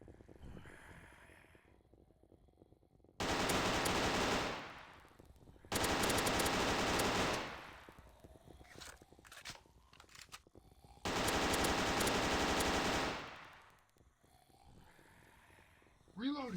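Sustained bursts of automatic suppressive gunfire in a zombie first-person shooter video game, three long loud bursts of several seconds each separated by quieter gameplay sounds, with a voice speaking between them.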